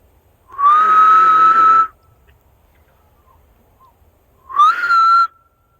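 Two long, high whistled calls in a Florida forest, imitating Bigfoot, each a rising sustained tone held about a second, separated by a quiet pause, loud and close.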